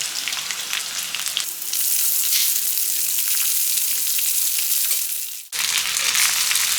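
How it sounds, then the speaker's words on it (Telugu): Cooked rice is tipped into a pan of sizzling curry leaves and green chillies, a loud, close fry that jumps after a moment, breaks off briefly near the end, then resumes. "ఇప్పుడు మనం ఇందులో వండి పెట్టుకున్న అన్నం వేసుకుందాం"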